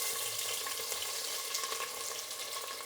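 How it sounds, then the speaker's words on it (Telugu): Onions frying in a pan for Karnataka donne biryani give a steady, hissing sizzle, even and close, with no speech over it. "ఎర్రగడ్డ అనేది బాగా వేగాలి."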